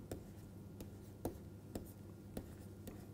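Chalk or pen writing out the Schrödinger equation, a series of crisp taps and short strokes repeating every half second or so, close and quiet against a low steady hum.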